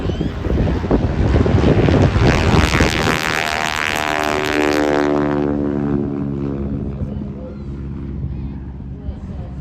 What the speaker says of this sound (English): he is on the takeoff roll. Listen to this.